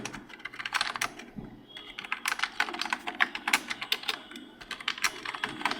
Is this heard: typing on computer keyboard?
yes